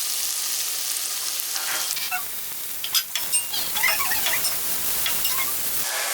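Chopped onion drops into a hot pan for noodles and sizzles loudly, a bright hiss that surges and crackles with scattered pops and a few utensil clinks before settling back to a steady fry.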